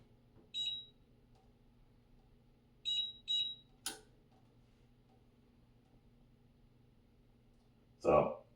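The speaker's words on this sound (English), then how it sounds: "So there, I just activated the vibration alarm." A Temu gun safe cabinet sounds its alarm after three wrong password entries: short high electronic beep bursts near 0.6, 3 and 3.3 seconds, a sharp click or knock, then a louder rattling buzz near the end over faint background hum.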